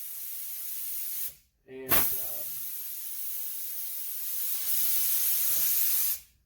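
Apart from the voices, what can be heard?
automotive paint spray gun spraying air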